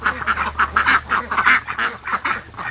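Free-range ducks quack repeatedly in quick, overlapping bursts, close and fairly loud, with no talking.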